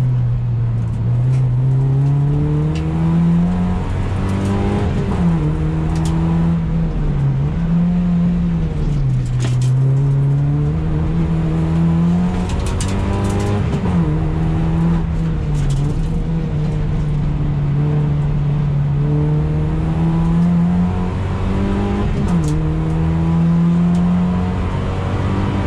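A Toyota Yaris lapping the Curborough sprint course drones loudly and continuously from inside the car, engine pitch rising with acceleration and dipping at each gear change or braking point across the lap.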